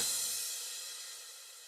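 A quiet crash cymbal washes out and decays over a couple of seconds, its soft attack trimmed so the bright shimmer simply fades away.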